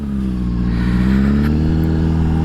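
A 2007 Honda CBR600RR with a Moore Mafia flash tune pulling hard, a loud, close, steady engine note rising gradually in pitch under acceleration, with no voices.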